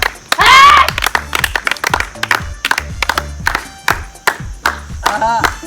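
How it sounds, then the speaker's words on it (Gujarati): A group claps in a quick, uneven patter over lively background music, with a loud burst of cheering near the start, during a mango juice drinking challenge. "તાળીઓ પાડો તાળીઓ"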